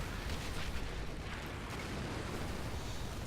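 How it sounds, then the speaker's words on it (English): An off-map rocket artillery barrage in a video game, heard as a dense, continuous wash of distant rumbling blasts at steady loudness with no clear gaps. "And an off-map rocket artillery barrage."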